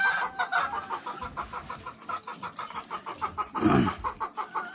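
A breeding hen clucks nearby in a quick run of soft, rhythmic clucks, with one louder squawk partway through.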